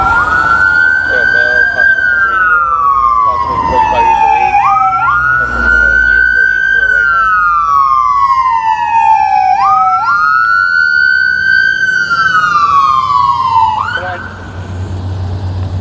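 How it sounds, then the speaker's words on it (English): An ambulance siren wails loudly through a Los Angeles street, its sweeping up-and-down tone repeating in steady cycles close by before easing slightly at the end, over low traffic rumble. "Here's the ambulance."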